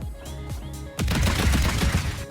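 A built turret gun in Trailmakers fires a fast, loud, close burst of shots, starting after a second of lower mechanical hum and continuing steadily to the end.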